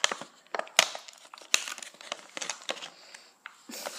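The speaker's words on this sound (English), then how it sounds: "I think I'm actually going to be able to like rip open the packaging right now" Plastic drugstore packaging being ripped and crinkled, a series of sharp irregular crackles and tears, fairly close and moderately loud, with short pauses between bursts and no talking.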